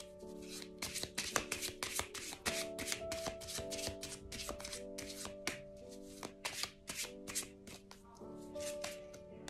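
Tarot or oracle cards being shuffled for a love reading, a steady run of crisp riffling flutters and soft slaps up close, with faint music held underneath.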